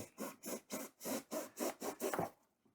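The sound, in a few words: box cutter sawing through material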